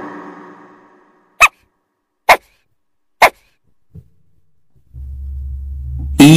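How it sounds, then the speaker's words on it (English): A dog gives three short, sharp barks spaced about a second apart and then a fainter fourth, followed by a low hum and a brief closing sound. No one talks. "D for dog."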